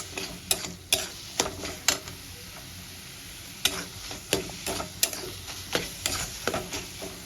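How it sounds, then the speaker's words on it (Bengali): Ground spices, turmeric and green chillies fry in a pan, a soft sizzle under repeated sharp scrapes and taps of a spatula against the metal, roughly one stir every half second, close and clear. "সব মশলাগুলো এবার ভালো করে আমি ভেজে নেব"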